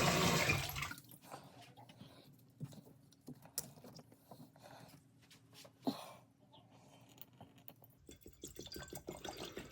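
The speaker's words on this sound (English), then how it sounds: "You just fill the water up to there" Water trickles and splashes into a six-cup stovetop espresso maker's small metal base, with a louder gush at the start and end and quiet dripping between.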